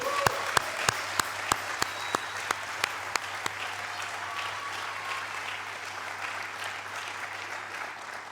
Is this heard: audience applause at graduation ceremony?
yes